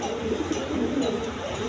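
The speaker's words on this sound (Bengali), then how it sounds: "এইখানে বিউটি কবুতর, জার্মান বিউটি কবুতর" Big German beauty pigeons coo close by, low throaty calls rising and falling in a continuous murmur, with a voice faintly present underneath.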